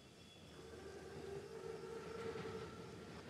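A German armored Panzerzug train in a Call of Duty WW2 setting rolls along on the rails, its steady, faint rumble swelling a little with a thin tonal whine over the top and no voices.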